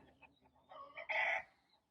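Roosters crow once, short and fairly loud, with a few faint clucks before the main call; no one speaks.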